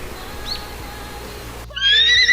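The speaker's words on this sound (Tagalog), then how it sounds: "May kabayo." A horse gives a loud, close neigh near the end, a shrill whinny rising sharply after a quiet outdoor background.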